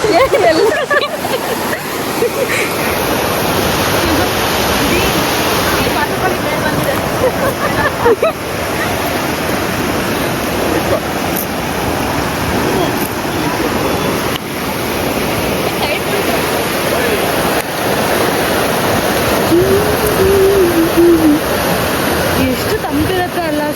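Water rushes steadily at an outdoor bathing spot, a loud, continuous wash like a stream or small fall heard close up, with wind buffeting the microphone and people talking faintly at times.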